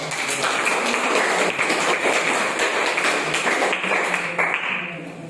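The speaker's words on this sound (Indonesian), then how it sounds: "Beri tepuk tangan untuk" An audience claps for a discussion group's presentation, a steady, loud burst of many hands that holds for several seconds, then tapers slightly near the end, with no talking over it.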